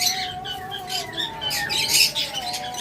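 Pet green cheek conures and cockatiels kept in pairs, a busy stretch of high chirps and squawks from several birds close by, continuous and lively with a faint steady tone beneath.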